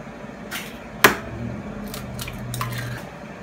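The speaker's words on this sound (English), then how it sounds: "We're gonna go ahead and crack 2 eggs." Two eggs cracked for an eggplant parmesan sandwich, with one sharp crack standing out and a few softer taps and shell clicks around it in a quiet kitchen.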